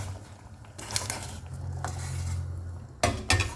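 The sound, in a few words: adding vegetables to a pot of boiling carrots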